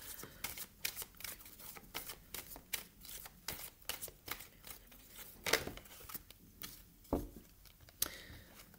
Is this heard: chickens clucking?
no